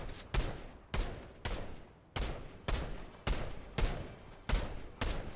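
Video game gunfire in Fortnite: about a dozen loud, evenly spaced shots crack out one after another in a steady rhythm, each with a short decaying tail, and no voices are heard.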